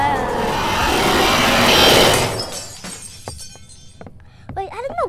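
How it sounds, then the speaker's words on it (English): A loud, sustained shatter of breaking glass in the Roblox game Doors, a dense crash that fades over a couple of seconds into scattered clinks and small game sounds. "Wait, I don't know, glass broke?"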